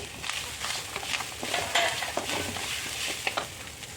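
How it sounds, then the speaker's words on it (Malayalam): Cinnamon, garlic, cardamom and shallots roast in a pan with a soft, steady sizzle, broken by faint stirring scrapes and light clinks, close and quiet. "ഇതിലേക്ക് ഇട്ട് കൊടുക്കാം ഇതിന് വേണ്ടത് ഒരു കഷ്ണം പട്ട രണ്ട് വെളുത്തുള്ളി രണ്ട് ഏലക്കായി രണ്ട് ചമന്നുള്ളി"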